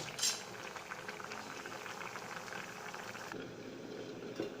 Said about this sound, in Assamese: মাছকেইডোখৰ ধুনীয়াকৈ সিজিবৰ কাৰণে ঢাকন লগাই তাক উতলিবলৈ দিব